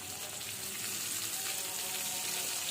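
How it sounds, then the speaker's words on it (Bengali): Onions sizzle loudly and continuously in hot oil with fried cumin, a dense crackling hiss with faint background talk. "কিছুক্ষণ নাড়াচাড়া করার পর পেঁয়াজ দিয়ে দিচ্ছি"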